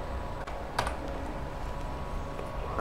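Computer keyboard keys pressed while working in an Excel spreadsheet, a few soft clicks close by over a steady quiet background hum.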